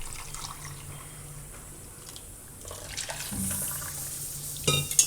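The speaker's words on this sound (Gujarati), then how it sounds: "એમાં બીજું પાણી નાખી દેવું" Water is poured into blended amla, first as a faint trickle, then as a louder splashing pour near the end, with clinks of a vessel.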